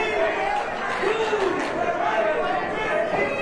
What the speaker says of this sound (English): Listen to this Pro Wrestling 225 family cheering on Rhett the Threat Thibodeau